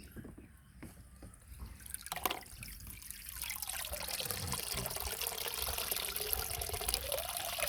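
Water drains out of a Lego cruise ship model, starting as scattered drips and taps, then becoming a steady, close trickle and pour that grows louder and continues throughout.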